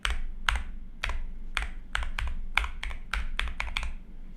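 Typing on an Akko YU01 resin mechanical keyboard, crisp close key clacks in an uneven run of about a dozen strokes over a low background hum.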